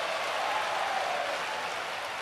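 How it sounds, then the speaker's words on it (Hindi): A crowd at a religious katha gathering in Banda, Uttar Pradesh claps for the event's organisers, a dense, steady applause at moderate level with no pauses. "जोरदार ताली कथा करवाने वालों को बजाओ।"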